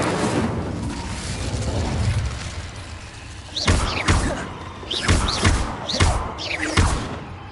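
Incendio fire spell cast repeatedly in Hogwarts Legacy, a series of loud whooshing bursts with thumping impacts arriving in a quick rhythm after a rumbling lead-in, no talk.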